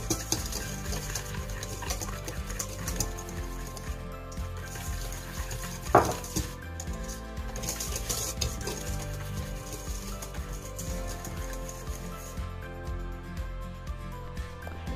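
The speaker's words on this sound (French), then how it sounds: "ajoutez vos jaunes d'œufs, le sucre de coco, et vous mélangez l'ensemble" Egg yolks and coconut sugar being stirred together in a mixing bowl, a soft steady scraping and swishing that runs the whole time under continuous background music, with one sharper knock near the middle.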